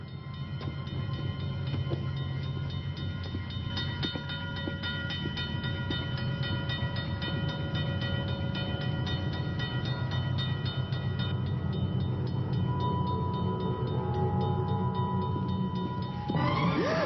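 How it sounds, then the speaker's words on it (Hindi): A train rumbles steadily close by for the whole stretch, with metallic clatter and a faint horn-like tone rising near the end as it passes, no talk over it. "एक ट्रेन आ रही है"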